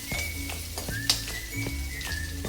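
Spices crackling in a small amount of hot oil as tempering for a bitter gourd curry, an even, close sizzle with scattered sharp pops and spoon taps on the pan.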